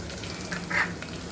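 Chopped garlic and ginger frying in a pot for a one-pot masala khichdi give a soft, steady sizzle with a couple of brief louder crackling swells.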